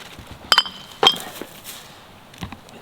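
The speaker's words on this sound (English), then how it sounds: "broken glass." Broken glass picked up off the ground in the bush, giving two sharp, close clinks in quick succession, then a quieter clink and faint rustling.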